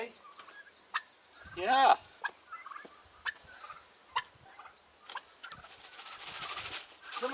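Turkeys gobble in repeated bursts as they are let out to forage, one loud nearby call standing out among fainter gobbles, while a man calls to them and coaxes them out.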